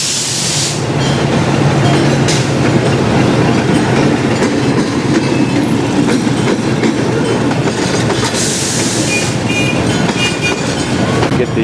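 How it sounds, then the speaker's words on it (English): A train rumbles past close by on a railway in Myanmar, steady heavy rolling noise with rhythmic wheel clatter on the rails and occasional hissing bursts. "Here comes a train."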